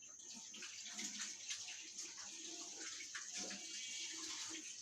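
Hands washed under a running tap, a steady faint splash of water with small shifting gurgles as the hands move, alone and without talk.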